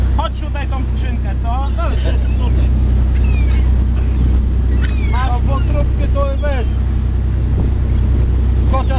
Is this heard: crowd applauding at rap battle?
no